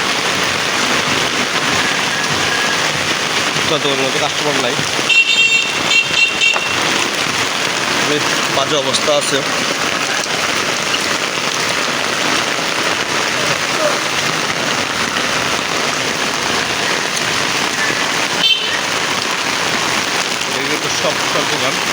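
Steady, dense rain pours down on a city street lined with shops, a constant close wash of patter, while a person talks over it.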